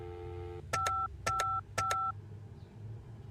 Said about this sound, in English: I need to make one more phone call